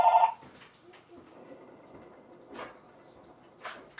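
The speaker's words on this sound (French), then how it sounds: "Je suis désolée pour le téléphone." A telephone gives a short electronic ring at the very start, loud and close in a quiet indoor room, followed by soft handling noises and faint rustles.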